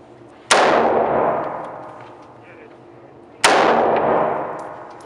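Two loud M4 assault rifle shots at an indoor range, each a sharp crack with a long ringing decay through the room, spaced about three seconds apart with nobody speaking.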